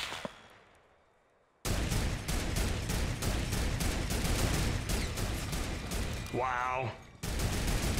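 Rapid, sustained turret gunfire in the Fortnite video game, loud and close, bursting in after a quiet moment and hammering almost without pause, with one short break; a voice briefly exclaims over it.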